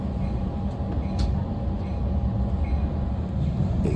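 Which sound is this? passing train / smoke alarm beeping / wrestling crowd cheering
passing train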